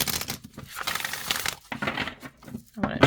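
An oracle card deck being shuffled by hand, giving brisk papery riffles and crinkling bursts in several quick passes, close and fairly quiet, with a voice speaking in between.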